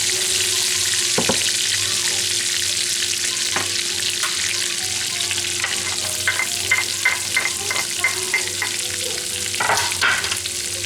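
Garlic sizzling in butter in a skillet on low heat, a steady close frying hiss with occasional stirring clicks and scrapes.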